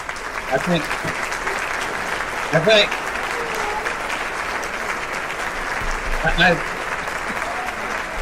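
Audience at a live talk show applauding as a broad, steady wash of clapping that fills the whole stretch, with a couple of brief voices cutting through now and then.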